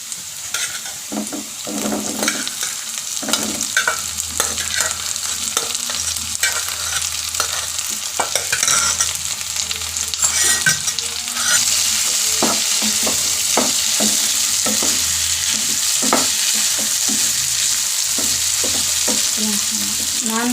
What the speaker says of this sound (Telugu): ఉల్లిపాయ వేగాక ఉడికించుకున్న నత్తలు వేసుకోవాలి.